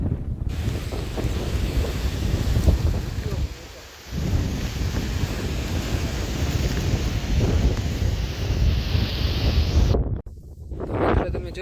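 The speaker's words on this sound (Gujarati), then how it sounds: "કેટલો પવન આવે તમે ખુદ પવનના અવાજથી જ તમને ખબર પડતી છે" Strong monsoon wind on Girnar mountain roars and buffets the microphone in heavy gusts, dropping briefly before surging again, loud and rumbling throughout.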